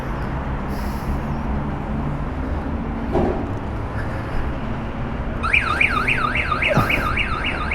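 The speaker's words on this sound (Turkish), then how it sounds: "bu turuncu takip sistemi de bir yandan iyi ama bir yandan da her motorun yanına geldiğimde her oynadığında devamlı ötüp" An orange anti-theft tracking alarm on a Honda Forza 250 scooter sounds a rapid warbling, repeating electronic tone, starting abruptly partway through over steady street noise and a low hum.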